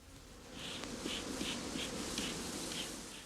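Honeybees buzz at an open hive being smoked to quiet them, a soft steady drone with faint high-pitched pulses and light rubbing or scraping close by.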